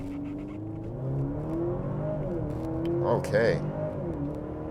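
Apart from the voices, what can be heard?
2023 Maserati Grecale SUV accelerating in 0-60 launch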